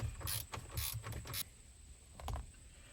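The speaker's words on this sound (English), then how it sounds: "you're going to take these 1, 2, 3, 4 7mm screws out" Ratcheting and clicking of a tool backing out 7mm screws from a Ford Sync 2 head unit in a Powerstroke truck dash, a few quick close bursts of small mechanical clicks with short pauses between.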